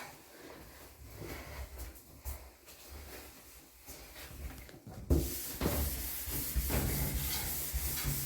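A shower is scrubbed clean with close, continuous rough rubbing, which grows louder and denser toward the end.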